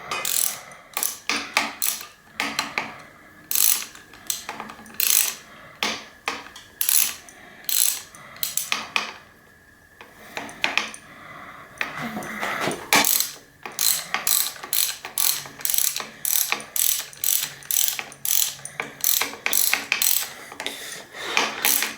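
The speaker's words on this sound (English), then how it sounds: "I push down and start screwing it in" A part is screwed into the lower leg of an Answer Manitou 1 suspension fork during a rebuild, giving rapid, close ratcheting clicks in dense bursts with a brief pause midway.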